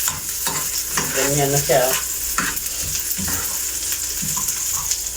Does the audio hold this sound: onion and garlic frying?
yes